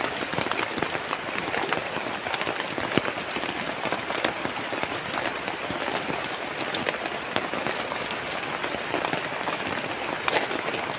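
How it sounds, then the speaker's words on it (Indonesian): Heavy rain pours steadily at a campsite, a dense, continuous hiss of drops drumming on surfaces with no letup and no voices. "malah hujan kayak gini gimana?"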